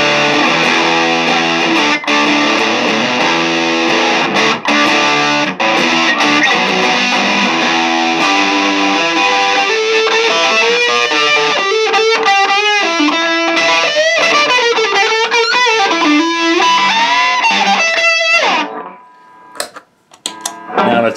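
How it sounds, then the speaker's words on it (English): Heavily distorted electric guitar through a vintage reissue Rat distortion pedal, distortion at maximum, plays sustained chords and busy riffs at high volume, ending in a few sharp bursts before cutting out. "Let's just go all the way with the distortion on both of these and let's just see what that sounds like."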